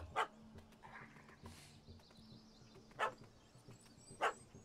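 A dog barks in The Witcher 3: Wild Hunt, Hearts of Stone expansion, three sharp, separate barks spaced a second or more apart over quiet game ambience, moderately close.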